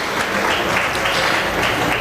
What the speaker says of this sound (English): Give these three individuals a round of applause for overall cow.